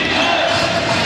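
A crowd in a basketball arena during a Taoyuan Pilots versus Formosa Taishin Dreamers game roars in a loud, sustained wash of cheering for about a second.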